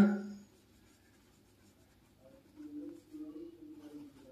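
Pen or chalk writing out the word Varanasi during a Hindi grammar lesson, a soft scratchy scraping that runs faint at first, then grows clearer in short strokes toward the end, heard alone without talk.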